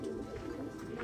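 Pigeons coo softly in a low, burbling murmur that runs steadily through the moment, fairly faint and close by.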